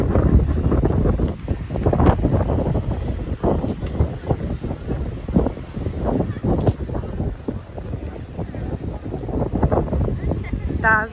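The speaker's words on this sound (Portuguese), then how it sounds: "Tá ventando muito." Heavy wind buffets the microphone on a boat throughout, a loud continuous rumbling roar with water and boat noise underneath and a person talking over it.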